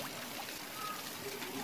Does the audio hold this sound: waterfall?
yes